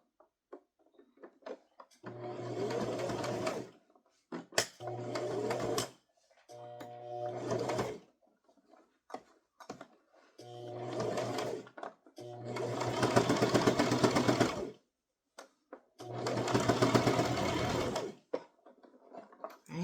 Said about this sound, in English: I'm going to start to sew.